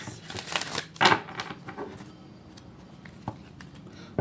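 A deck of tarot-style reading cards is riffled and shuffled in a few quick papery bursts, followed by quieter soft handling sounds, close and without talk.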